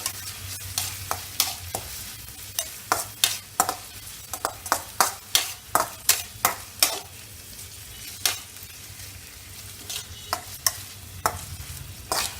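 Onion and capsicum sautéing in a pan, with a steady low sizzle and frequent sharp scraping clicks of a spatula tossing the vegetables, close up and without talk.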